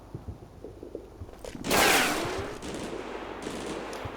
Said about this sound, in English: Another MG has opened up.